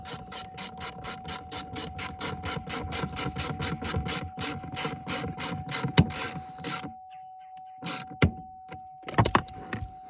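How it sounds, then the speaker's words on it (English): A T20 Torx screw is driven back in during a battery install on a 2015 GMC Acadia, making a steady run of rapid ratchet clicks for about seven seconds, then near quiet broken by a few soft knocks. "So this slides right in, and we'll put our T screw back in, T20."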